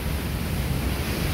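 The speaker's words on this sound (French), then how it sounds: "Jolie cascade." A small waterfall in Iceland, near a thermal bathing pool, gives a steady, dense rushing of falling water that fills the scene without a break.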